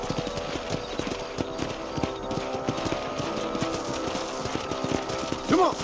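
A horse trots in Red Dead Redemption, its hooves clip-clopping in a steady, brisk rhythm under continuous game ambience, with a short whinny-like sound near the end.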